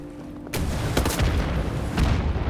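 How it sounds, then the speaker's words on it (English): Rockets fired and exploding in a video game: a sudden loud burst after a quiet start, followed by a dense run of booming blasts and rumble that continues to the end. "Stop shooting rockets."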